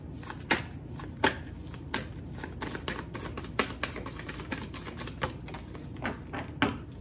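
Prayer cards are shuffled by hand in a steady run of soft riffling slaps and crisp ticks, close and fairly quiet, with no talking.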